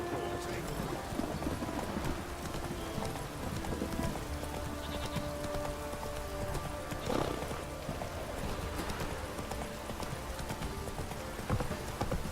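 Hooves of Geralt's horse Roach clip-clop steadily through The Witcher 3, with a brief whinny partway through, running beneath continuous game ambience and music while someone speaks over them.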